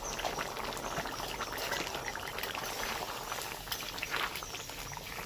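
Water poured into a pan of chicken, capsicum and potato curry, a steady close hissing pour and trickle with bubbling, loud and continuous throughout, with no talking.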